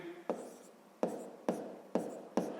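Pen scratching numbers onto paper during a grade 5 arithmetic exercise, five crisp stroke onsets with brief scraping tails at an uneven pace, close and quiet with no voice.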